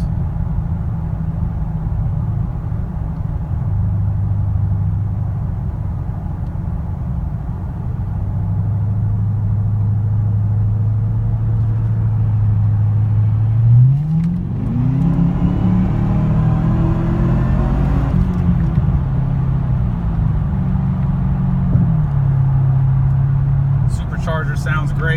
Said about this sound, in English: Supercharger sounds great.